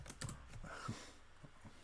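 Keys tapped on a computer keyboard in a few quick, uneven bursts, close and fairly quiet against a low room hum.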